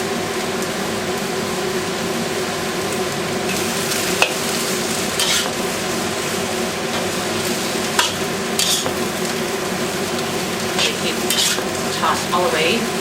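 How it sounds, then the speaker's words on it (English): Chicken and onions sizzle and fry in a hot pan during a stir fry, with a steady loud hiss throughout and occasional clinks and scrapes as the food is tossed. "Toss it a little more. And throw in the onions."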